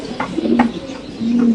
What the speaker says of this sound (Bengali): ইন্দোনেশিয়ান হলিকোপার কবুতর মাশাআল্লাহ।